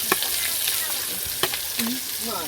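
Onion and chili fry in oil in a pan for chow mein, giving a loud, steady, close hiss with occasional clinks of a stirring utensil and no talking.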